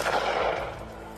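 Gunfire blasts loud and close during a mountain lion attack, a dense burst of shots smeared together with echoing crack and rumble that fades over about a second.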